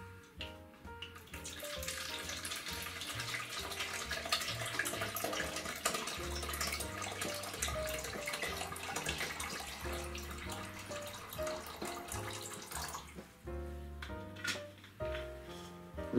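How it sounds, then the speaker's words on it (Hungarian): Boiling water pours steadily into a stand mixer bowl for about thirteen seconds, a continuous rushing splash with soft music playing underneath. "550 g forrás vizet adunk hozzá"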